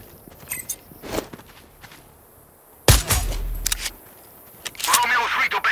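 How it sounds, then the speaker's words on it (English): Gunfire near the player in Sniper Ghost Warrior Contracts 2: several sharp cracks and a heavy low thump amid footsteps and rustling, moderately close, with bursts of gear noise. "Someone is shooting nearby."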